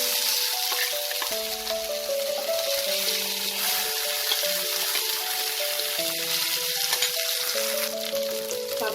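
Ground bottle gourd leaf paste fries in hot oil in a pan, producing a steady, moderate sizzle with soft crackles while faint melodic tones play in the background and no one speaks.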